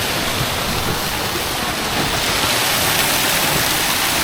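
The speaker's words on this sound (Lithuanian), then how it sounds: "Liaugia vandenėlis" A stream rushes through Sapadere Canyon in Turkey, its water pouring in a steady, dense, close wash of noise that holds evenly throughout with no voices over it.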